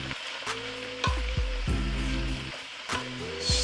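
Collard greens sizzling in a hot pan as they are stirred, a steady crackling fry broken by several distinct scraping and clattering stirs close by.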